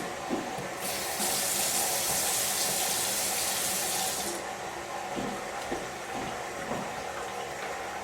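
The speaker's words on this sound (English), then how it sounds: "you might want to put a little warm water in there." Warm water runs steadily from a tap into a bowl while bread dough is being made, a continuous close hiss and splash that lasts several seconds with a few soft knocks near the end.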